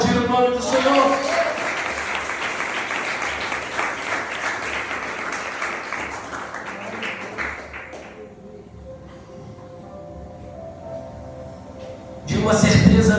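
A church congregation claps in dense, sustained applause that fades out about two thirds of the way through, before a fresh loud burst of clapping near the end.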